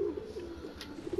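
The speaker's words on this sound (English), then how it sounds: "For example, I hear pigeons." Pigeons coo softly in a video game, a low repeated murmuring call over a quiet steady background, with no speech.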